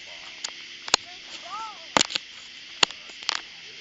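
Small artillery shell fireworks from a backyard mini fireworks show: several sharp, loud cracking bursts scattered across the moment, roughly four main reports, with a faint rising whistle between them and some crackle.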